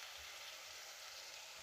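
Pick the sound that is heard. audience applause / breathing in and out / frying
frying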